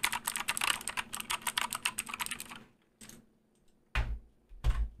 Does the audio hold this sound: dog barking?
no